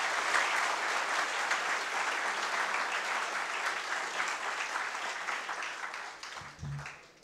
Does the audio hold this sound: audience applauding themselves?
yes